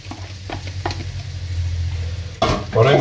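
Chopped onion hitting a hot frying pan of oil while Mediterranean pisto is being cooked, with a steady close sizzle under stirring scrapes that swell louder near the end as the onion goes in.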